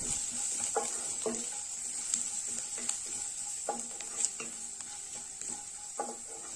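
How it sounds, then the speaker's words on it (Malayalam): Turmeric and chili powder being sautéed into a masala in a pan for beetroot dosa filling: steady close sizzle with repeated scraping stirs of a spoon against the pan, no talking. "ഇനി ഇതൊന്ന് വഴറ്റി കൊടുക്കാം."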